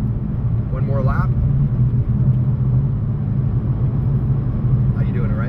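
Race car accelerating hard at Barber Motorsports Park, heard as a deep, steady in-cabin engine drone throughout, with a voice briefly talking over it near the start and end.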